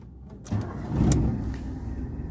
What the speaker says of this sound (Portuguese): Vamos fazer o teste da partida para vocês agora aí.